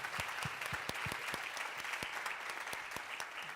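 An audience at a climate change conversation applauds, a sustained patter of many hands clapping at moderate distance with a few sharper individual claps standing out.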